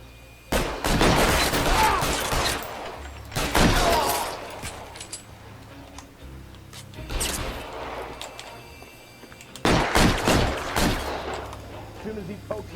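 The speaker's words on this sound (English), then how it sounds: "Guns." Gunfire in L.A. Noire: loud bursts of shots in several separate volleys spread across the stretch, each clattering sharply and then tailing off, with quieter gaps between.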